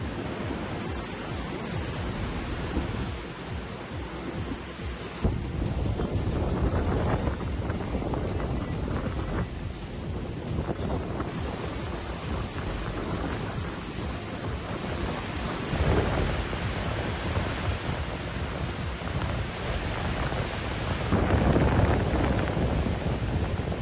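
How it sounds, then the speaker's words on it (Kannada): Heavy, steady rain in Jammu and Kashmir roars across the whole stretch, with deep rumbles of thunder rolling underneath and swelling louder near the end. "ಜಮ್ಮು ಕಾಶ್ಮೀರದಲ್ಲಿ ಭಾರಿ ಮಳೆಯಾಗ್ತಿದೆ"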